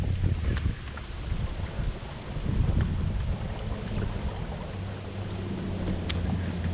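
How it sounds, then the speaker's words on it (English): Wind gusts across the water around a bass fishing boat on the Ortega River, a steady rumbling buffet on the microphone that swells and eases, with faint water movement beneath and no voices. "Wind's gonna be a little bit of a bugger"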